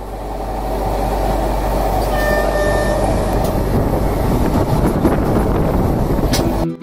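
A long-distance passenger train bound for Kerala rumbles steadily along the tracks, with a loud, continuous low roar and wheel rattle heard from inside the carriage.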